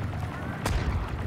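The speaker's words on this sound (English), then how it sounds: "Let's get the rocket launcher. And fire on the walker." Rocket launcher fired at a walker in Star Wars Battlefront II, a single sharp blast midway through a short burst of dense battle rumble.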